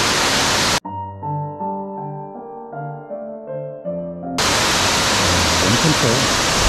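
Boksungtang waterfall in Seoraksan's Sibiseonnyeotang valley roars as a dense, steady wash of water noise, broken midway by a few seconds of tonal music before the roar returns at full strength.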